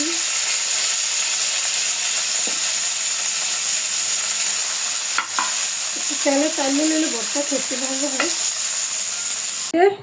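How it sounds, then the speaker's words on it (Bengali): Hilsa fish frying in a pan, a steady close sizzle running throughout, with a few clicks and a short stretch of faint tonal voice or background sound in the latter half. "কাজুর মধ্যে খাওয়ানোর জন্য ইলিশ মাছ ভেজে নিতেছি"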